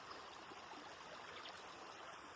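River water flows steadily, a soft, even rushing wash that stays faint and continuous throughout, with no voices over it.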